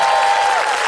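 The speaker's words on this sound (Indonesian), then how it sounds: "tepuk tangan dong" Studio audience applause on an Indonesian television lookalike show, a dense burst of many hands clapping together, loud and close, tapering slightly toward the end.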